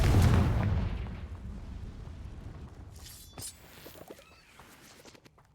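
A Confringo blasting spell explodes in Hogwarts Legacy: one loud, deep boom that fades slowly into a long rumbling tail, followed by faint crackles and small debris sounds.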